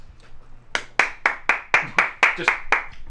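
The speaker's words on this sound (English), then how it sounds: "Can we do a visual slate? Yeah, what is it? Take one? Yeah, just clap your hands." A run of about nine sharp, evenly spaced hand claps, close and crisp, made as a visual slate on a film set, preceded by a brief murmur.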